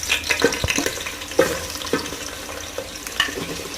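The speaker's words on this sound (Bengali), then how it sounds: "এই গরম কড়াইতে তেল ডালা হয়েছে, এখানে আমরা মশলাগুলো মিক্স করব" Mutton masala spices fry in hot oil in a kadai while being stirred, making a loud, busy sizzle broken by repeated scraping and clacking strokes of a spoon. Nobody speaks.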